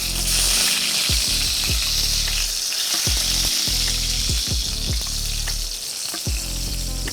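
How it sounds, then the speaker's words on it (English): A halibut fillet sizzling loudly in a hot pan just after being flipped, steady dense frying hiss with repeated scraping stirs and crackles, close and without speech. "Okay, so after 3 minutes, I'm gonna go ahead and flip my fish over."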